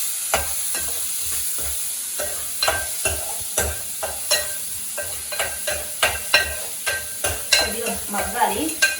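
Onions and green chillies sizzle hard in a hot pan, with steady frying hiss broken by regular scraping stirs of a spatula, close and loud, no talking.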